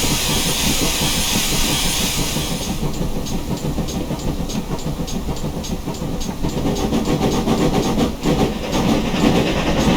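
GWR steam locomotive in Train Simulator Classic running light with no cars attached, a loud steady rumble of engine and rail noise with hissing steam, rhythmic chuffing emerging after the opening seconds.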